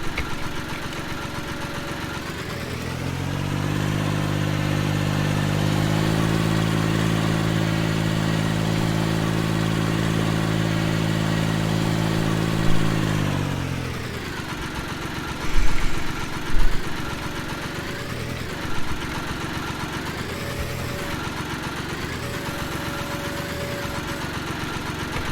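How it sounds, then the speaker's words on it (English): An old Case IH tractor engine cranks over, catches and runs with a loud, steady diesel-like drone, then settles into a lower rumbling idle with a few knocks and clunks, close by. "The last thing we're gonna do is fire up this old Case IH and move this tractor."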